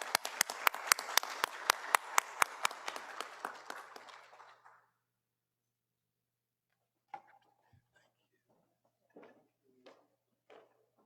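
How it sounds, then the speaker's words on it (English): An audience at a University of Alabama Black Faculty and Staff Association ceremony claps for honorees in a brief burst of applause that fades out after about four seconds, then scattered quiet talk and small noises follow. "Please join me in giving them a round of applause."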